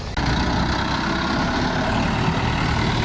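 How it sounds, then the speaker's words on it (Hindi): A tractor engine rumbles past outside an airport, a steady, loud low-pitched drone that holds even and close for the whole stretch with no talk. "ये जा रहा भाई एयरपोर्ट के बाहर ही ट्रैक्टर"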